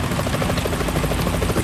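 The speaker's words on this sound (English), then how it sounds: "Is that a chopper I just heard?" A helicopter flies overhead in the Metal Gear Solid 2 video game, its rotor throbbing loud and steady in a fast, continuous pulse with no voices.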